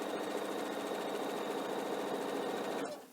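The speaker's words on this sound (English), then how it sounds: "sewing our strip together" A sewing machine runs at a fast, steady whir, stitching fabric strips together, then slows and stops near the end, moderately quiet and close.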